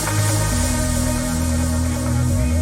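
A remix breakdown builds a euphoric, lifted moment, with dense sustained synth pads, a steady low bass line and washes of delayed vocal echoes filling the mix.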